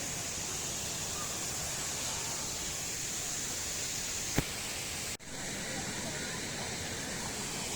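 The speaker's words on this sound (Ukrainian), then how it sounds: "Такий шум водопаду." A steady, even roar of the Bukhtivets waterfall in the Carpathians fills the air, broken only by a single brief knock.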